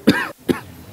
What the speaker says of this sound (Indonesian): Batuk, mau batuk.